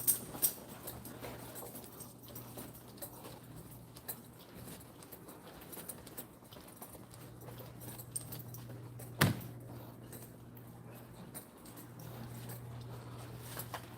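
Car keys jangle and clink in faint, irregular bursts with one sharper metallic click partway, over a low steady indoor hum, without talk.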